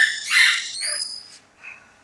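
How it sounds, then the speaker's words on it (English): Outdoor birds squawk loudly nearby in a few harsh, high calls that trail off, heard alone without talk. "Darn birds."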